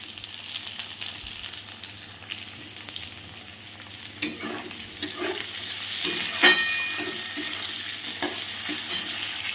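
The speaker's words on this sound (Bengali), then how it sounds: "পেঁয়াজ ফোড়ন দিয়ে দেব।" Onions frying in hot oil as the base for a sour-spicy fish curry, a continuous close sizzle with occasional scrapes and clinks of stirring.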